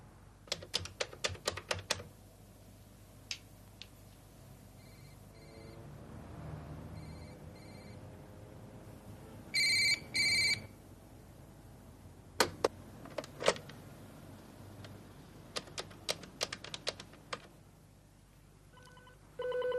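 An office telephone rings unanswered in bursts of repeated trills, with keyboard-like clicks and tapping scattered between them, in a quiet room with no talk.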